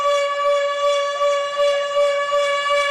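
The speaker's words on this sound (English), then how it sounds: "Zero drone. This siren sounds like something straight out of a nightmare." Zero drone warning siren holding a loud, steady, unbroken tone with rich stacked overtones and a slight wavering swell throughout, alone with no voices.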